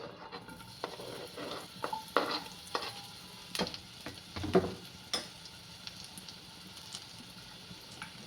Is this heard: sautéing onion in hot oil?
yes